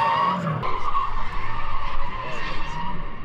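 A Nissan S15 Silvia drifts with its tires skidding and squealing on pavement, a loud, continuous screech close by, with engine noise underneath.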